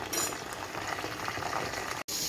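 Masala capsicum curry with peanuts, sesame, cumin and onion bubbles under a lid in the pan, a steady close simmering and sizzle that runs throughout and cuts out briefly near the end.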